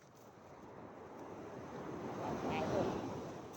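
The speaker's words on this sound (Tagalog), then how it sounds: "May dagat." Sea waves wash ashore at Dingalan, Aurora as a steady broadband roar that swells toward the end, mixed with wind buffeting the microphone.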